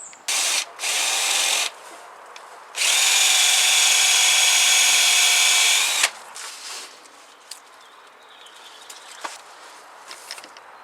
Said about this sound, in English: for the plugs, I've got a 5mm diameter drill bit